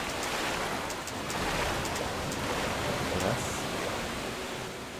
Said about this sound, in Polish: To był podwójny wodospad.